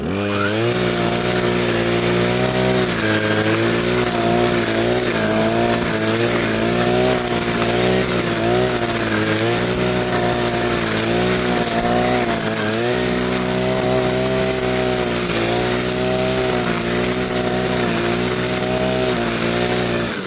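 A 50cc petrol brush cutter mows grass, its small two-stroke engine droning loud and close throughout with slight rises and falls in pitch as it cuts.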